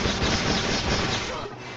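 Dense, steady gunfire from the Pirate101 video game fills the whole short stretch. The blasts blur into one loud burst of noise that fades slightly at the end.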